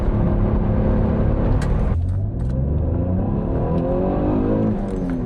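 Alfa Romeo V6 engine revving hard toward 5000 rpm, a loud continuous roar that dips briefly then climbs again in pitch, heard close from inside the car with no talk.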